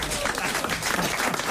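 A studio audience breaks into a brief burst of applause and crowd noise on a French comedy radio show, with a voice speaking over the clapping.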